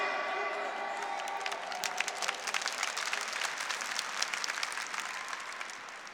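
Congregation at a Catholic sermon applauding, a crowd of dense clapping that starts beneath fading speech and then carries on steadily at moderate loudness, heard from some distance.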